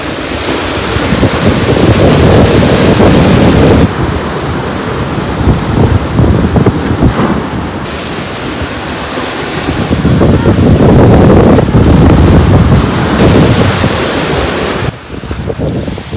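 Sea waves wash onto the shore at Mousuni Island in repeated surges, rising and falling over several seconds, loud and close with wind buffeting the microphone.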